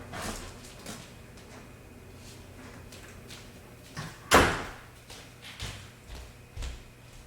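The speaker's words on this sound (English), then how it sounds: "So let me just close the door" A door is shut indoors near a laundry area, a single sharp thud standing out from soft clicks and faint background hum.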